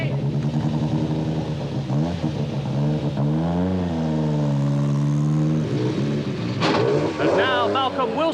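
A rally car leaving the start at the 1986 Monte Carlo Rally, its engine revving loudly and rising through the gears close by, while a commentator talks over it.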